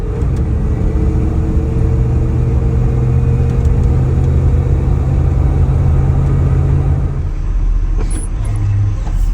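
A 1978 Ford F150 truck engine idles steadily as it warms up, a continuous low rumble with a faint whine on top, close and alone, easing down near the end.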